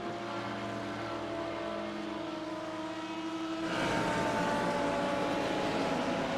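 Racing car engine at wide open throttle at Daytona in a sports car championship video game, a sustained loud droning whine that steps up in intensity and pitch partway through, continuous with no pauses.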